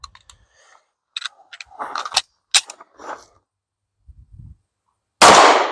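A Canik Mete Prime pistol fired one-handed, one loud close shot near the end that follows scattered clicks and metallic handling sounds.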